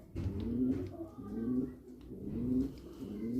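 Homing pigeons cooing close by in a loft, with repeated soft low rolling coos coming in waves and a few faint rustles, no talking.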